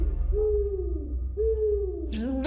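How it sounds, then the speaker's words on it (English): An owl, brought into an interrogation room, gives two long descending hoots followed by a shorter rising call, close and clear over a low background hum. "Bringing an owl to an interrogation?"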